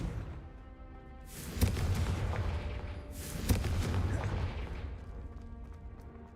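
Two booming blasts from the Confringo spell in Hogwarts Legacy, each a sharp hit swelling into a rumbling explosion, about two seconds apart, moderately loud, with background game sound.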